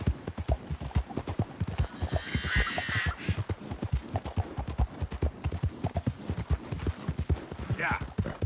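A horse in the video game Red Dead Redemption 2 trots with rapid, rhythmic clip-clopping hoofbeats, close and steady throughout, with a brief whinny partway through and another near the end.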